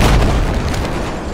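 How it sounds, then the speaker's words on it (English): In Battlefield 4, a tank shell slams into an ATV, giving a loud, heavy boom with a deep rumbling blast that fades over a second or so. "I was in an ATV and the tank shot me"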